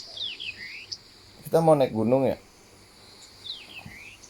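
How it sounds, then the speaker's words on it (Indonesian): Thin, high bird chirps come in short calls at the start and end, fairly distant, with a person speaking briefly in between. "Ada suara burung lagi."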